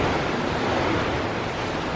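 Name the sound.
heavy rain pouring outside a storage unit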